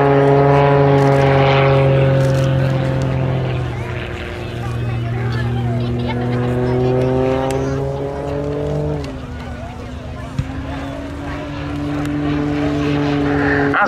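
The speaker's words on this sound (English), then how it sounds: "This muscle biplane is very highly modified indeed." Highly modified muscle biplane flying aerobatics at the RAF Cosford air show, a loud droning propeller engine whose pitch slides down and back up as it manoeuvres, with a commentator talking over it.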